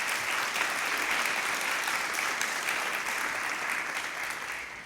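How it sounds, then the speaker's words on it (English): Steady, full audience applause at an awards recognition event honoring a sponsor company, continuous and even, tapering slightly at the end. "So let's please give them a round of applause for this."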